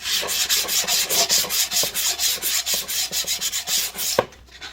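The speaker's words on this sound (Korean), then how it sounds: "이 모서리 뾰족한 걸 사포를 이용해서 없애주도록 하겠습니다" Sandpaper rubs rhythmically back and forth over the sharp corners of a wooden DIY book stand, close and loud, with even strokes for about four seconds before stopping.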